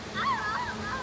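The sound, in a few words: child splashing water in a swimming pool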